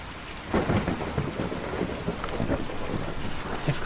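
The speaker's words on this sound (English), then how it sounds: "Difficult to see or even hear a storm like that" Rain and thunderstorm in the video game Kentucky Route Zero: steady heavy rainfall pattering on surfaces with low rolling thunder rumbling underneath, continuous and fairly loud throughout.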